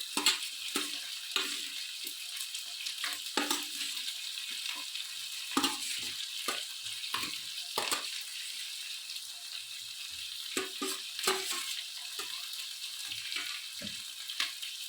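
Onion, green chili and tomato sizzle steadily in a frying pan for a chicken curry, with irregular scraping and clacking strokes of a spoon stirring throughout, close and moderately loud with no talk.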